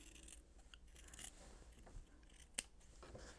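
Scissors trim elastic for sewn hand-warming inserts, making soft, close snipping and rubbing sounds with one sharper cut near the end, all quiet and without talk.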